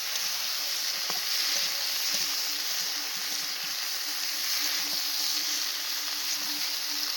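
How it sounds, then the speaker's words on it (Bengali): Vegetables sizzle steadily in hot mustard oil tempered with cumin seeds in a kadai, a continuous close frying hiss with a few faint stirring clicks and no talking. "কড়াইতে সর্ষের তেল দিয়ে জিরে ফোড়ন দিয়ে কিন্তু আমি সবজিটা ঢেলে দিলাম"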